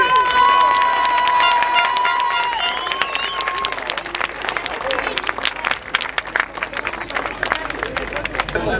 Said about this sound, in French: On peut applaudir le nouveau prince de Lunel